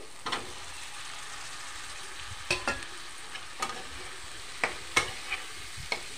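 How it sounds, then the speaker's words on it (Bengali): Taro stolons (kochur loti) stirred in a pan with spices and chillies: a faint, low sizzle with occasional scrapes and knocks of a spatula at irregular intervals, close by and with no talking. "নাড়াচাড়া করে লতিগুলি দিয়ে দেব।"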